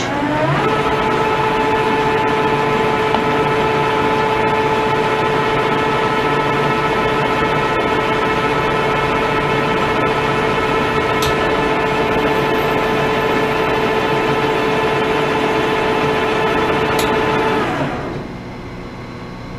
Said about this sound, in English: this is going to be a scratch pass for 8 thousandths per inch